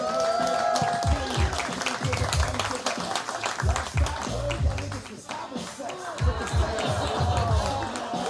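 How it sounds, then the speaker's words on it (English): A large comedy-show crowd in Eugene applauds and cheers loudly. The clapping is dense and sustained, with shouts rising over it throughout. "Make some noise for my guy, Logan Escobar!"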